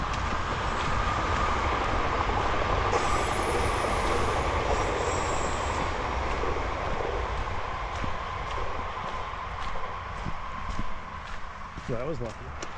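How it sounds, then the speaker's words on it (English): A train passes in the opposite direction on a single-track line along a rural hiking trail, a steady rumbling roar with a faint squeal, fading over several seconds as a person speaks briefly near the end. "Oh, here comes the train. Opposite direction now."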